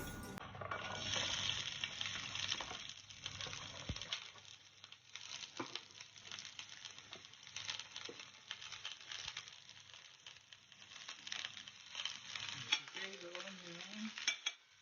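Onion frying in hot sunflower oil, a steady crackling sizzle that carries throughout with a few stirring clatters and a brief tonal clank near the end.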